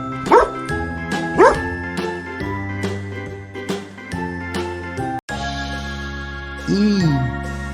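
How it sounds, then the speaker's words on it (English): A cartoon dog gives two short, sharp barks early on over a cheerful children's tune with jingling chimes, and a brief yip-like call follows near the end after a short drop in the music. "Nice dog."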